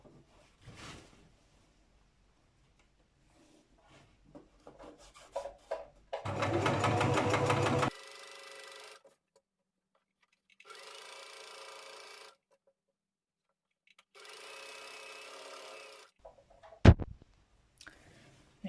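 A sewing machine stitches a fabric hem about 1 mm from the edge in several separate bursts of rapid, even whirring, close by and loud against a quiet room, and a sharp click comes near the end.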